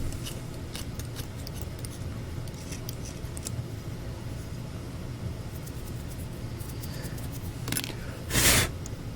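Small cutting tool trimming thin metal on a 1/64 scale custom NASCAR diecast car, with faint scattered snips and scraping clicks and a brief louder rustling burst near the end, no speech.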